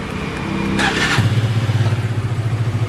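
A Benelli motorcycle, started by remote through a two-way alarm without the key, cranks with a brief starter whir. The engine then catches into a close, steady, pulsing idle.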